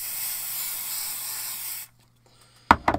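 Stick-and-spray adhesive sprayed onto the back of card stock for a craft project, a steady close hiss lasting under two seconds, then a pause and a few small handling knocks.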